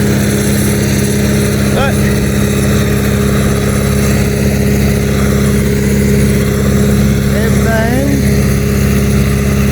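A crop sprayer's engine runs loud and steady at high revs to drive the boom pump, a constant droning hum with a brief rising whine near the end, under a few spoken words.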